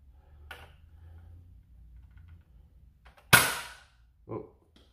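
A Nerf Dinosquad RaptorSlash blaster fires a dart with one sharp snapping pop, preceded by a faint priming click and followed by a short thud, in an otherwise quiet room.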